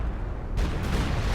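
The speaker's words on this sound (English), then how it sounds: "Big barrage goes in." Heavy artillery barrage in a strategy video game, a dense continuous rumble of overlapping explosions that swells into a louder, brighter crackle of blasts partway through, with no talking.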